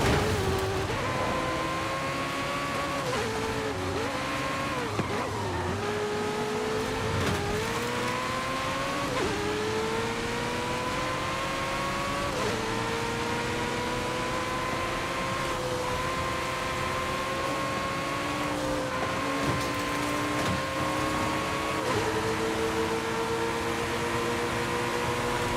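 Ferrari and Lamborghini supercar engines race in Forza Horizon 5, a loud, continuous, close roar with rising revs and shifts throughout, the pitch climbing and dropping with gear changes.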